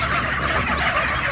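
Dense crowd of chickens inside a large poultry farm barn holding about 200,000 birds, a loud continuous wash of clucking and squawking with no voices on top.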